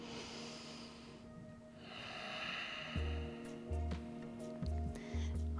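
Slow breaths during a guided hip-opening yoga class, quiet and close, with a few soft low thumps toward the end.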